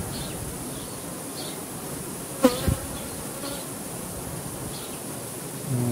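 A honey bee colony hums steadily inside an open hive, a close and continuous buzz with a brief sharper knock midway.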